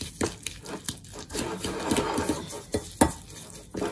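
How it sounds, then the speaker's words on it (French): Butter and sugar being creamed together by hand for an almond cake batter, a steady scraping and mashing in a bowl with irregular utensil knocks against the sides, close and moderately loud, no talking. "On écrase bien ensemble le sucre et le beurre."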